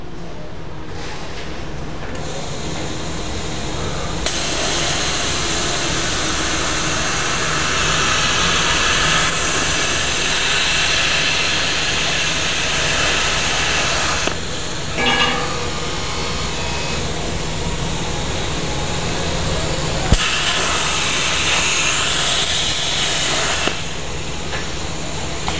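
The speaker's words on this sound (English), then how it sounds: "The plasma cutter itself" A plasma cutter on an automated tube-cutting machine hisses steadily through a long cut, a loud continuous rush with a few abrupt breaks and restarts, and nobody speaking.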